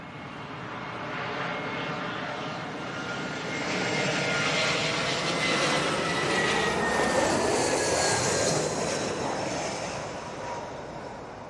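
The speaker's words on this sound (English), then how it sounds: "Big Nige is taking off from the North Runway." A jet airliner taking off from the north runway at London Heathrow: a broad engine roar swelling from moderate distance, peaking midway and holding loud before easing slightly, with no talk.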